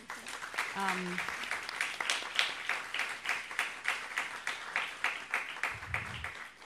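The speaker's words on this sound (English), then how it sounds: "I would ask the audience for a very nice, warm round of applause for our panelists." Audience at a panel discussion on representation in entertainment media and technology gives a steady, moderately loud round of applause for the panelists, with a few brief voices mixed in.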